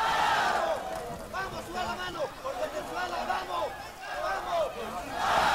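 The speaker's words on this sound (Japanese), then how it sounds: "声援も一生懸命やってますね" A crowd cheers and chants at a WBA flyweight title boxing match in Thailand, a loud, sustained roar with rising whoops and shouted calls throughout, swelling at the start and end.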